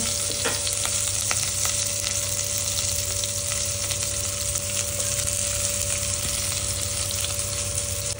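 Onion fries in a pan on a low gas flame while fish curry is made, a dense, even, close crackling sizzle that holds steady throughout with no speech.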